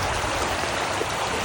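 Creek water flows along a hiking trail in a steady, close, broadband rush with no voices over it.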